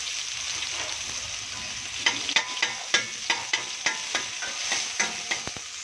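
Onion sautéing in a little hot oil for a Filipino creamy chicken curry: a steady broad sizzle with a run of sharp, regular clicks of a utensil stirring against the pan, close up and without talk.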